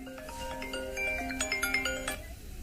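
A phone ringtone plays a bright, melodic electronic tune of repeated tones, fairly close and clear, with no talking over it.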